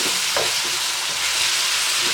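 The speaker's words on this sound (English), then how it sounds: "So I'm just mixing it in now, and then I'm going to let it cook for a bit." Ackee and saltfish with seasoning fry in a pan while being stirred, a dense steady sizzle with soft scraping, close and fairly loud, without speech.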